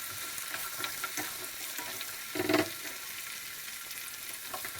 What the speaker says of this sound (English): So I'm going to cook the potatoes on mid-high flame.